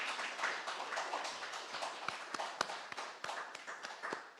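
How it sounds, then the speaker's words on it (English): Applause from a congregation after a sermon at a church service, a steady wash of many hands clapping at moderate distance, with a few sharper individual claps standing out, carrying on for several seconds. "Let's have a round of applause, please."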